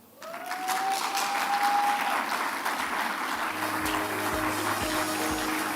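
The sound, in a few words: audience applause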